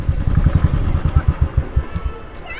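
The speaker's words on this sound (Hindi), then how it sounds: "तो अभी बाइक को कर देते हैं पार्क" A motorcycle's engine idles in a close, rhythmic low putter while it is eased into a parking spot among barricades, and the beat slows and thins out toward the end.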